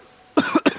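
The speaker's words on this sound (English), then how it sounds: "I had to mute my mic over, so I was coughing out." A person gives two sharp, close coughs in quick succession, abrupt and fairly loud after a quiet moment.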